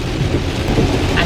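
Torrential rain and thunder in a thunderstorm with 30 mph wind and flooded roads, heard from a Tesla being driven through it: a steady, loud wash of rain with low rumbling throughout.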